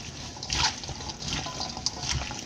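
Cassava being hand-washed in water while making edita-iwa at home, with intermittent close splashes and soft trickling as the roots are rubbed and turned, fairly quiet and free of talk.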